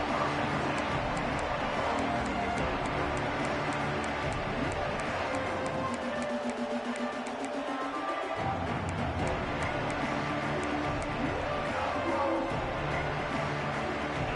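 Stadium crowd noise from the College Football 26 video game, a broad continuous roar of many voices that swells and holds steady throughout, with a brief dip midway and commentary running over it.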